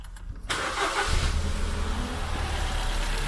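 A Ford Fiesta with an engine misfire and loss of power cranks briefly and then catches, settling into a steady, close idle with no talk over it.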